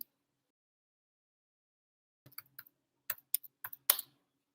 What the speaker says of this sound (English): As I just want to type something as